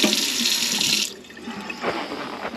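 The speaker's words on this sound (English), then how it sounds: "So now let's run some water," Tap water running into a kitchen sink fitted with a garbage disposal, a steady close rush of flowing water whose tone shifts partway through.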